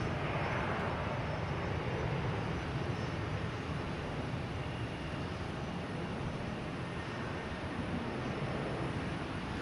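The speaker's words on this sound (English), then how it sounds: "Delta coming in from LAX, 757." A Delta Boeing 757 arriving from LAX lands at Boston Logan Airport, its jet engines a steady, broad roar that runs unbroken at a moderate distance with no voices over it.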